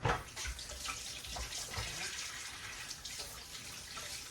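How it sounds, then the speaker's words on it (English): Tap water runs into a kitchen sink while hands are rinsed, making a soft, steady splashing stream with small irregular spatters, quiet and close. "I'm going to rinse my hands."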